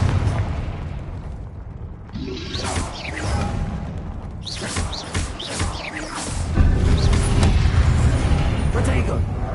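An explosive Confringo spell blasts repeatedly during combat in a Hogwarts video game, with loud booming bursts and crashes over a dense ongoing battle mix.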